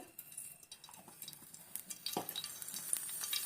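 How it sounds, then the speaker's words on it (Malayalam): Ghee sizzles softly in a hot pan, a light crackle with a few clinks of the vessel and a brief swell as it is poured in, quiet and close with no voices. "കുറച്ച് നെയ്യ് ഒഴിച്ച് കൊടുത്ത്"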